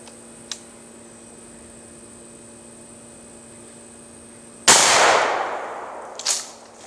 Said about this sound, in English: up next we got the 12-shot law enforcement buckshot